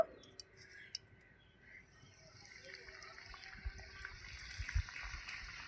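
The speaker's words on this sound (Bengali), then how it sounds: "এবার আমি এগুলোকে ফ্রাই করে নেব ভালো করে নেড়ে চেড়ে" Pieces of nimki gaja dough fry in hot oil, giving a faint, steady sizzle with small scattered crackles and pops.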